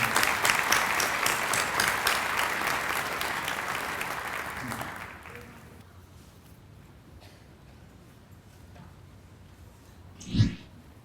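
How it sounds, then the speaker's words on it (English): Audience applause at a graduation ceremony for county award winners begins as loud, dense clapping and fades out after about five seconds, leaving quiet room noise and a brief thump near the end. "Let's have a round of applause for all of our county award winners."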